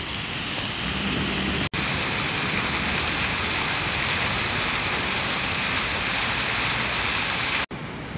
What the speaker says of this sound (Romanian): Și fontanul curge. Chiar dacă afară plouă.